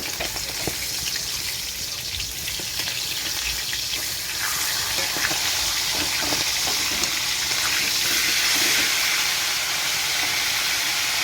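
Dishes being scrubbed and washed with running water in a home kitchen while rice boils nearby, a steady close hiss of water and steam running without pause.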